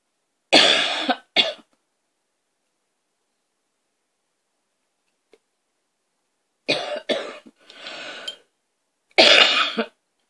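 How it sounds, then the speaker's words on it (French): A woman coughs in short bursts: a couple of coughs near the start, then after a long silence a cluster of coughs and a final loud cough. "Vous allez m'entendre souvent tousser."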